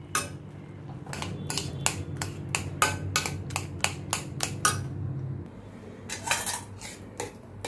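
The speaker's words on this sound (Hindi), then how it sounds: "इसको कढ़ाई में थोड़ा ऐसे मैं मैश करती हूँ।" A utensil strikes a metal kadhai in a quick series of sharp clanks while cooked raw mango is mashed, about a dozen rhythmic knocks, a brief pause, then a few more, over a low kitchen hum.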